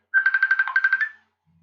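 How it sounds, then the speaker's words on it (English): A mobile phone rings nearby in a short burst of rapid electronic pulses lasting about a second, then goes quiet. "that's my phone ringing, but I'm not gonna answer it."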